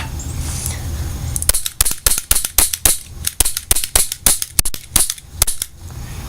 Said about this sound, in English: It's a pretty decent cap gun.